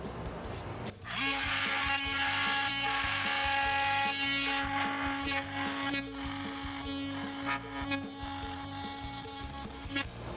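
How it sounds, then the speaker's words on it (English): An oscillating multi-tool buzzes steadily with a high, even whine as it cuts into wood. It runs close and fairly quiet for most of the stretch, with faint background noise around it. "Then an oscillating multi-tool is perfect for the job."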